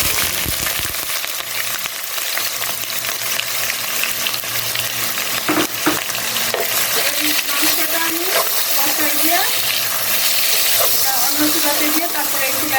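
Sliced onions along with whole spices such as mace and cloves frying in hot oil for a mutton kacchi biryani, giving a steady broadband sizzle throughout with occasional stirring clinks and a voice talking over it.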